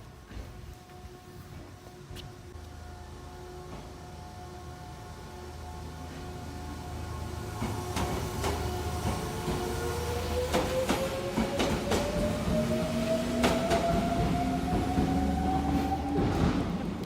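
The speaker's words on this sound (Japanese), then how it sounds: "電車。" A train passes on a late-night street walk in Japan, its rumble building steadily over about seventeen seconds with rhythmic clacking wheels and rising whining tones, growing louder as it nears, with no talking.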